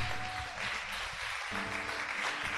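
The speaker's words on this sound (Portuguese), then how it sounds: "Pode dar uma salva de palmas para Jesus." Brief burst of congregation applause in a church service, steady clapping at moderate loudness with no speech over it.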